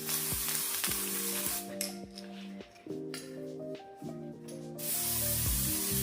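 Hissing bursts of aerosol hair spray onto a wig, several short sprays in a row from about 10 inches away, close and loud over a soft background tune.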